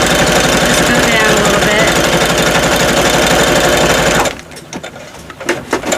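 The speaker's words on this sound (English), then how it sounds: "I'm just going to kind of go around here and there with the zigzag stitch" A sewing machine runs fast and steady zigzag stitching on a mixed-media cover, a loud close continuous mechanical whir for about four seconds that then stops abruptly, leaving light handling sounds.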